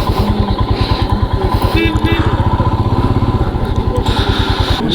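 A motorcycle idles near a pine forest, its engine thumping in a fast, steady loud beat, with faint voices and background noise around it.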